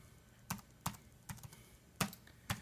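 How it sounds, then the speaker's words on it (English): Keys on a Dell laptop keyboard are pressed in five separate, crisp taps spaced about half a second apart, close and quiet in a silent room. "So you'll just type in the relevant rows"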